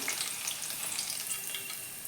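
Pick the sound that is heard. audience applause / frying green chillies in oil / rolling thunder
frying green chillies in oil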